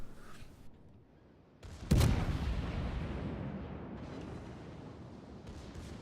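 Secondary battery guns fire from a warship in World of Warships. One loud boom is followed by a long rumbling decay, with fainter distant thuds before and after.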